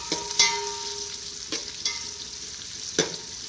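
Onion fries in a pan with a low, even sizzle, broken by a few sharp scraping stirs spaced about a second apart, close by and with no talking.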